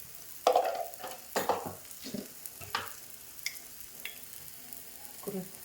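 Squid sautéing in a pan with garam masala and black pepper, a low sizzle broken by several scraping stirs of a spoon at irregular intervals.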